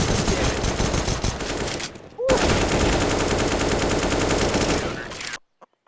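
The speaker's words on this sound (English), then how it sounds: "I'll just pick up this AK and kill everybody" Rapid bursts of AK rifle fire in the CS:GO video game on the Inferno map, loud and continuous for about two seconds, a brief break, then another long sustained volley before cutting to near silence.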